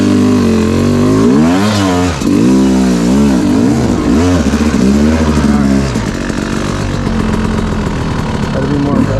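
A hard enduro dirt bike engine revs loudly in first gear, rising and falling in repeated throttle blips while the rider holds it on the clutch, with a person talking over the engine noise.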